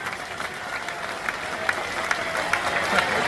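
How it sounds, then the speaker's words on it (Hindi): Audience clapping loudly at a religious gathering at Bageshwar Dham, a dense sustained wash of applause with sharper claps standing out, continuing for several seconds. "इसलिए आपका जोरदार ताली बजा करके अब स्वागत करो"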